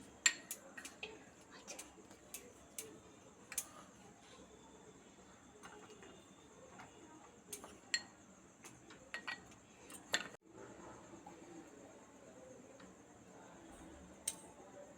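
A spoon works through eggless cake batter studded with flour-coated tutti frutti in a bowl, giving faint, scattered ticks and clinks at an uneven pace against a quiet background, with no talking.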